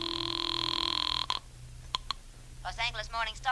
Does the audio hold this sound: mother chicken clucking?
no